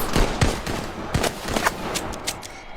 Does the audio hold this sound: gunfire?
yes